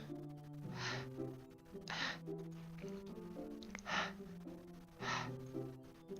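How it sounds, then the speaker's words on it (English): Sharp inhaled breaths in the Doki Doki Literature Club video game, four or five hissing gasps at regular intervals over a sustained low musical drone, no talk. "It sounds like breathing. A sharp inhale, like someone's sucking the air through their teeth."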